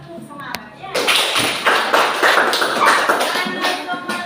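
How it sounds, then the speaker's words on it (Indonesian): A sixth-grade class in an Indonesian classroom claps together in a rhythmic spirit chant, loud, close bursts of group clapping after a brief pause, with children's voices mixed in. "supaya lebih semangat kita tepuk semangat ya"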